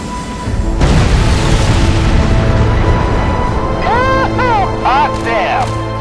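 Bombs from an air strike in Crysis Warhead go off in a loud, deep, rumbling blast that swells suddenly and keeps roaring, with radio-style voices chirping over the later part.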